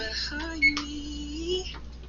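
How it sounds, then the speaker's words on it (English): A kitchen timer is being set while banana bread bakes, giving a few short electronic beeps and tones over a quiet kitchen background. "So now I'm going to change my timer."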